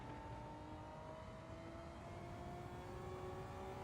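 Race car engine in Gran Turismo 7 running at full power during a weekly challenge race, a steady high-pitched whine holding near-constant loudness across the whole stretch with slowly rising tones.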